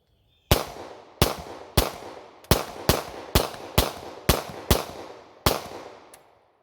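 Glock pistol emptying a fresh magazine outdoors after being buried in a yard for a month: nine sharp, loud shots in an uneven rhythm, each with a short decaying echo, close and with no talk.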